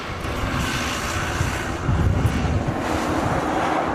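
Airbus A380 Flying Honu turning onto the runway at a Hawaii airport, a loud, steady jet engine roar that swells slightly midway, with some wind buffeting the microphone.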